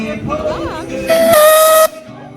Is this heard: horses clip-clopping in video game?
no